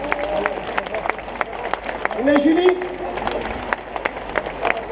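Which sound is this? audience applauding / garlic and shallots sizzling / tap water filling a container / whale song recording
audience applauding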